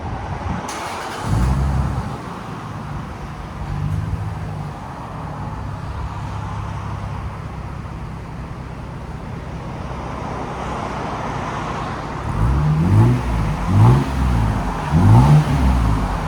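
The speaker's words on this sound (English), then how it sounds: "2003 Lexus GS300 Megan exhaust system" A 2003 Lexus GS300 with a 3.0L inline-six and Megan Racing exhaust idles with a low rumble, then revs several times near the end, each rev rising and falling.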